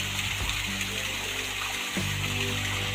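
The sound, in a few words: water flowing from pond into farm well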